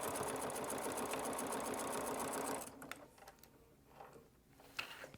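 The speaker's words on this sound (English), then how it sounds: "Pull the one and number two, and just keep stitching." A sewing machine runs fabric through a Clover fabric tube maker, whirring loudly and steadily for a couple of seconds before stopping. Faint clicks and handling noises follow.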